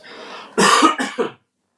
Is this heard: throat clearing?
yes